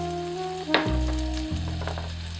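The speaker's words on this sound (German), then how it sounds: "geben wir 30 Gramm Butter in eine Pfanne und braten 100 Gramm Speck an oder Bacon" Bacon sizzles steadily as it fries in butter in a pan for an onion tart, with a brief clatter near the start and no talking.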